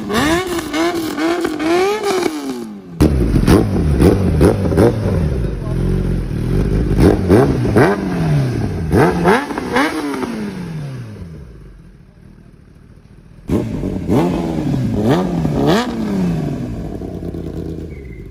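A Kawasaki ZX-10R heavy sport motorcycle revving hard: repeated sharp throttle blips climbing and falling in pitch, with a brief drop to idle before the engine snarls up again, loud and close.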